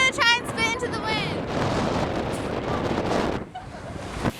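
Gusty wind at Polly Point on the Hawaiian coast buffets the microphone in a broad roaring rush, with brief voice sounds at the start and a sharp knock near the end.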